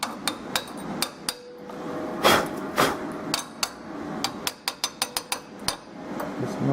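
Sharp metallic chipping-hammer taps knocking weld slag off metal, irregular at first then a quick run of knocks, close by over a low steady hum.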